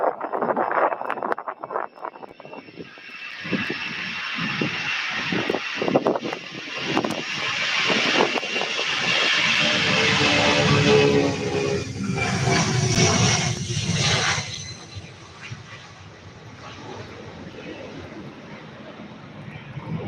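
An airliner bound for Santa Ana departs runway 17 right at Louisville's SDF airport. Its jet engines swell into a loud, sustained roar that peaks and then trails off, with people talking intermittently throughout.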